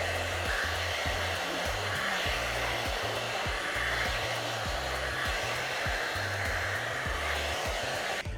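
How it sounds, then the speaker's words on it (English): A VS Sassoon Air Style Brilliance hair dryer with its concentrator attachment blows continuously, a loud, steady close-up roar of rushing air with rhythmic low flutters as it moves through hair. "With the first attachment, the dry concentrate, it attaches on, it's going to blast the hair dry."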